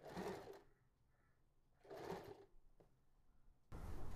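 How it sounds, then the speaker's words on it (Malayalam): A sewing machine stitches a shirt collar seam in short bursts of steady whirring, three runs separated by brief quiet pauses, close and fairly soft, with no talking. "വിട്ട സീമിൽ കറക്റ്റ് അത് അതേപോലെ വെച്ചിട്ട് ഒരേ സീം കണക്കാക്കി നമ്മൾ ഫുള്ള് തയ്ച്ചെടുക്കാം."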